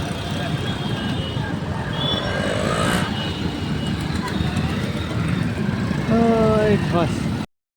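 Busy street traffic with engine rumble and passing vehicles, people talking nearby, and a couple of horn-like tones near the end.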